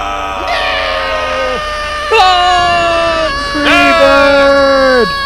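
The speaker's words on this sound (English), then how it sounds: "We're all screaming!" Cartoon characters in a Sam and Max adventure game scream in loud, overlapping wails, with pitch sliding down at the end of each, in three close bursts that swell louder.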